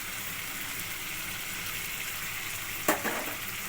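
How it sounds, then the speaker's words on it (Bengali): Hilsa fish masala sautés in a pan with a continuous, close, even sizzle and a brief clatter of stirring near the end, with no talking. "এগুলো দিয়ে এবার সুন্দর করে আমি কষাতে থাকব"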